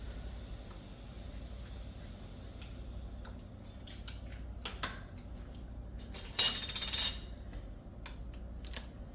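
Metal lids being set onto glass canning jars of homemade salsa, a few faint clinks and scrapes at first, then sharper metallic clatters and a bright ringing clink over a low steady hum.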